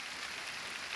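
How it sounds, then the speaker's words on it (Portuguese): Steady rain falls over a wooded area of Ingá, Paraíba, Brazil, a dense, even hiss of drops that holds at moderate loudness for the whole second with no speech. "A chuva sempre é bem-vinda."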